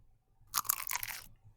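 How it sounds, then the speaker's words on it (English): A single loud crunching bite into a spinach and cheese phyllo pastry, close up, with a brittle crackle lasting about a second over near silence. "let you hear this crunch real quick."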